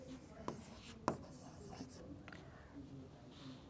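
A pen writes triangle labels on paper for a class 10 maths problem. The scratching is faint, with two sharper taps near the start, then light strokes over quiet background noise.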